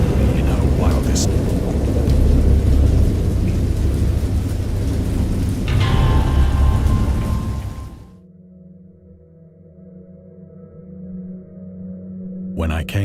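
In the video game Dagon, steady heavy rain hisses with low rolling thunder for several seconds, then cuts abruptly to a quiet, low hum with faint tones.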